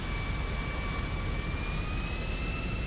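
In Grand Theft Auto V, a jet engine gives off a steady, loud roaring hiss with a thin high whine on top, constant throughout and with no voices.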